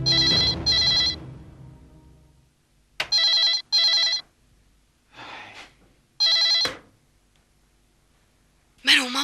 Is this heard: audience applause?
no